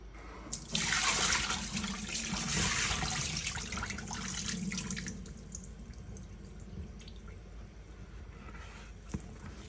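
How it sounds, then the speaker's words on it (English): Spring water pours and splashes into a bowl of washed sea moss for a few seconds, then settles into a quieter trickle and faint dripping. "I refilled the bowl with some more water, some more spring water"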